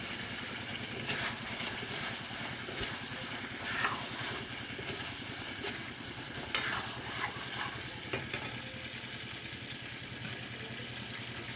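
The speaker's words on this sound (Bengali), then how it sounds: "তেল ছেড়ে দিয়েছি, এবার আমি ডিম আর আলুটা ছেড়ে দেবো এর মধ্যে।" Eggs and potatoes fry in hot oil with spices, a soft continuous crackle and hiss with occasional stirring scrapes, quiet and steady throughout with no talking.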